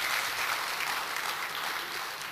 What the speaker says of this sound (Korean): 다시 한번 박수 보내주고 싶으신 거예요?